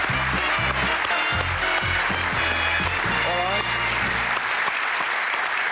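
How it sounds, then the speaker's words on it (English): A studio audience applauds a contestant on the 1992 darts quiz show Bullseye, steady clapping under loud theme music and a host's brief voice. "Give him a word of applause"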